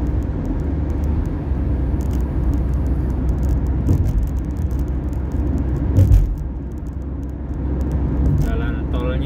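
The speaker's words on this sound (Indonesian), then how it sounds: "Jalan tolnya ramai mobil, guys, karena malam." Busy night traffic on a toll road in Saudi Arabia toward Medina, heard from inside a moving car as a steady low road rumble and engine hum with occasional rattles and a bump, under a person talking.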